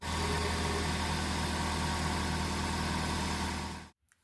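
A Suzuki Ignis Sport engine runs at a steady, close idle with a low even drone for about four seconds, then cuts off into quiet.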